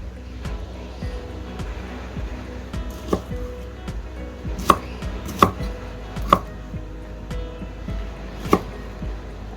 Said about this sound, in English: chop them up. They don't have to be fine and they don't have to be precise.